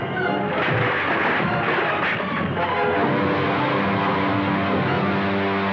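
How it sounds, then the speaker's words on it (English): Film sound effect of bombs from an enemy spaceship exploding over snow and ice, a loud dense rumbling blast that rolls on continuously, with a sustained tonal drone emerging under the roar toward the end. "Why, it's one of Ming's ships. They're trying to bomb us."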